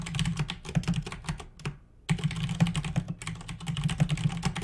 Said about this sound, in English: just typing in the chat